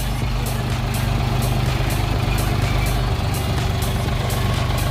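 A DongFeng 244 tractor from 2022 on wide tyres idles nearby, a steady low diesel drone with faint rhythmic ticking that holds even throughout.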